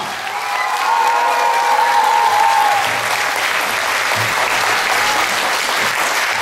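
Sustained audience applause fills a Christmas carol and song festival hall, steady and loud with a dense clatter of clapping throughout, and faint cheering mixed in.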